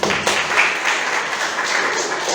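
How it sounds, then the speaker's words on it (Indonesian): Brief burst of classroom applause from students, a dense patter of clapping at moderate volume that holds steady for a couple of seconds. "Tepuk tangan dulu buat penyemangat"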